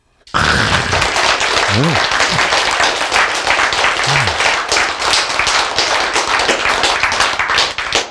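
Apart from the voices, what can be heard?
audience applause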